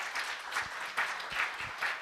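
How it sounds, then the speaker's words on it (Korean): Applause from an audience at a lecture, a short, moderately faint patch of clapping with an uneven, pulsing texture. "여러분 박수를 보내주시기 바랍니다."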